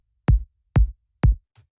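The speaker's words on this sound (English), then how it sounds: "It's more about just finding something that's really like deep and bassy while still being punchy" A deep, bassy yet punchy minimal house kick drum sample hits three times at a steady pace, each thump decaying quickly, followed by a faint short blip, with no voices.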